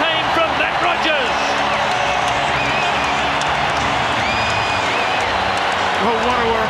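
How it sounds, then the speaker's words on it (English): Big rugby stadium crowd roaring after a Wallabies try against the All Blacks, a loud, dense, unbroken wall of cheering and clapping with whistles poking through, while a commentator talks over it. "Listen to this crowd go off."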